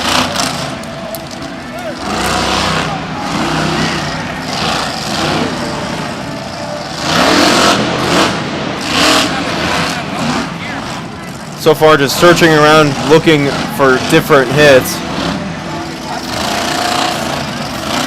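The Brutus monster truck, troubled by mechanical problems, revs its engine at a Monster Jam event in Tampa, the roar surging in uneven bursts under crowd noise while commentators talk throughout.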